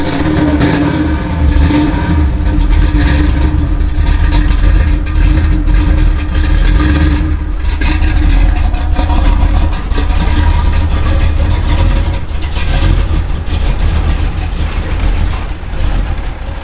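A cable winch rated at 1.8 tonnes hauls a 1440 kg Camaro SS under restoration, giving a loud steady mechanical drone with a deep rumble that runs unbroken throughout.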